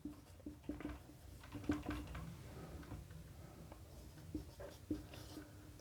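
Pen or chalk writing by hand during a Class 9 geometry lesson on circle theorems, heard as faint, irregular scratchy strokes and small taps, close and quiet with no talk over them.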